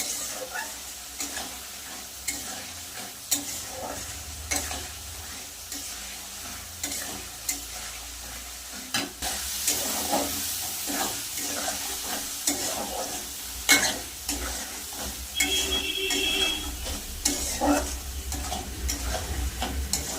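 Spice paste with ginger juice frying in a pan for chana dal, a continuous close sizzle with scraping and stirring strokes and brief clinks, louder in the second half, no speech.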